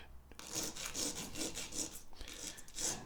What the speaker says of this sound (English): just take some 180 grit sandpaper and drag the screws over the top